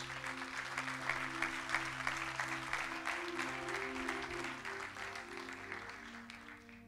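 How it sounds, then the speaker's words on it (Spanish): Church congregation applauding, a dense steady wash of clapping that carries on for several seconds over a low musical backing. "¿Le puede dar un fuerte aplauso a Dios?"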